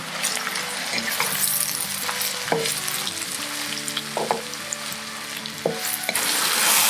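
Thinly sliced onions frying until soft and translucent: a steady close sizzle with occasional metallic clinks and scrapes of a spoon against the pan, no voices.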